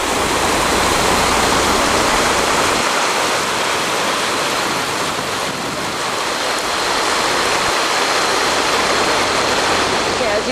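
Floodwater pours through a burst dam and over broken riverbanks at the Turgwe Dam in the December 2011 flood, a loud, dense, unbroken roar of rushing water that holds steady for the whole stretch.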